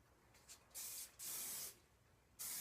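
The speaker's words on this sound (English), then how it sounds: "just spray. And just keep doing that until you get the look that you want" Hairspray is sprayed onto styled hair in three distinct hissing bursts, close and fairly loud, with the middle spray lasting longest and quiet gaps in between.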